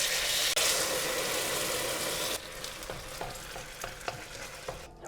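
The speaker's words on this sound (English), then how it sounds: "Now goes in the coconut milk." Coconut milk from a tin is poured into a hot pan of tomato curry base, a loud sizzle that drops suddenly partway through, then gentle bubbling with scattered stirring clicks, close-up and without voices.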